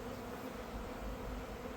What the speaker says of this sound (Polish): było dużo pszczół. I one się kręcą, wiadomo.